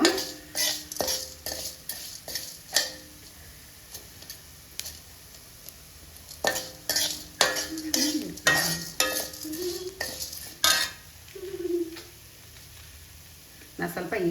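Curry leaves dry-roasting in a pan while being stirred, with sharp scraping and clattering strokes of the spoon arriving in irregular bursts over a faint crackle, and a voice speaking between the strokes.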